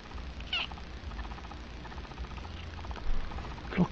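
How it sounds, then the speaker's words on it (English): A kitten tucked inside a dresser drawer gives a couple of short, high meows, one early and one at the very end, over a quiet indoor hum. "Little kitten."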